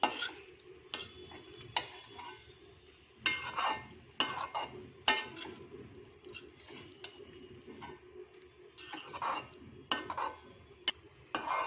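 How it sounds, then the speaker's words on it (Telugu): Pasta being stirred and tossed in a pan to coat it in its sauce mixture, with intermittent spoon scrapes and clatters over a soft background, moderately close and without talk. "ఇప్పుడు ఇదంతా మిశ్రమం అంతా పాస్తాకి పట్టేలా తిప్పుకొని కలుపుకోవాలి"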